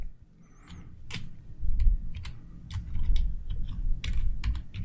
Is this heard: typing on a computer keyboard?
yes